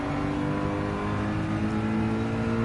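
A Subaru WRX STI Type S races in Gran Turismo 7, its engine a steady, fairly quiet drone holding a sustained high pitch with no break.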